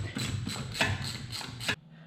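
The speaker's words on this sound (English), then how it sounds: "So we're going to pull the old spark plug out." A ratchet fitted with a 16 mm socket loosens an old spark plug on a barn-find Honda engine, giving a close, steady run of quick clicking strokes that stops abruptly.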